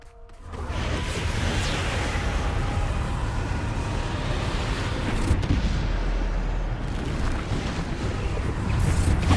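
Bombarda explosion spell cast in Hogwarts Legacy: a sustained roaring blast with rumbling low end and whooshing debris that swells and holds for several seconds amid battle noise.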